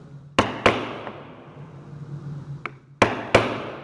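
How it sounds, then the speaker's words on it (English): A chisel is hammered into wood while building a sailboat with hand tools, heard as a few sharp, close mallet strikes in uneven pairs with soft ringing decay between them. "now I have hammered that chisel in just about 1/8 inch deep"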